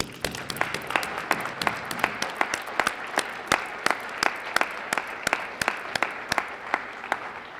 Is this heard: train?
no